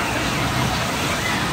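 A steady, dense rush of water splashing as a kids' ride passes through a pool at a fun park, loud and unbroken for the whole short stretch.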